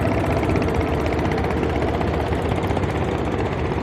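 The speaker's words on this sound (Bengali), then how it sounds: "এরূপ শত শত ট্রলার ইতিমধ্যে এখান থেকে গেছেন আরও যাবেন যাচ্ছেন" Several trawler boat engines carry crowds of worshippers home after the Bishwa Ijtema prayer. They make a continuous loud, rough diesel drone with a throbbing pulse, steady and close, with no speech.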